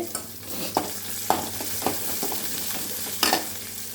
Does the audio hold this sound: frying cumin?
yes